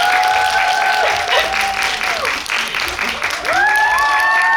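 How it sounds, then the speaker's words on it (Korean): Loud applause from a cinema audience at a guest visit with the director and an actor of Alienoid at CGV Yongsan. Cheering and shouted voices rise and fall over the steady clapping. "큰 박수 부탁드립니다"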